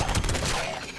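A heavy gun fires a rapid burst of loud, dense shots in Fallout 76, the blasts packed closely together and fading slightly toward the end.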